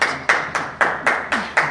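Applause-like bursts from an audience at a Spokane County GOP political event, seven sharp evenly spaced claps or waves of clapping, each decaying quickly, fairly close and loud with no talking.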